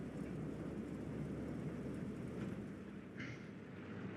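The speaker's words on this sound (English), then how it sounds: "Recon plane out by 508." Recon plane in the WWII shooter Hell Let Loose passing overhead as a low, rumbling drone that fades slightly, with no talk.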